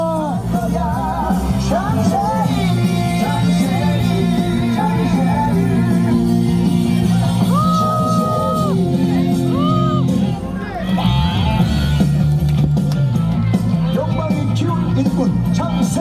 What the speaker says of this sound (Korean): 여러분 환호와 연호 부탁드립니다